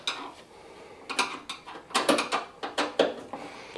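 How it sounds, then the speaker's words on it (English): Screws come out of a Samsung washing machine panel in quick bursts of small metallic clicks and ratcheting ticks, close and fairly quiet, with no talking. "I'm also going to remove these two screws here just to make it a little bit easier with the wiring"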